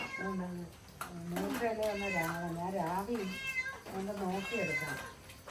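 A cat meows repeatedly in long, wavering, drawn-out cries, close and fairly loud, with short pauses between calls.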